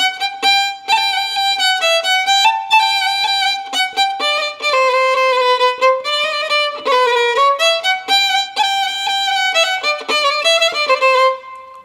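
Solo violin playing a short, lively passage of the Romanian folk dance Sârba creață, fast ornamented melodic runs with bright sustained notes, close and loud, no talking.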